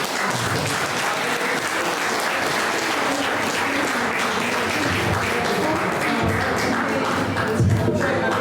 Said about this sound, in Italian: Grazie a Rosaria Sanna e Pinuccio Secchi, un applauso.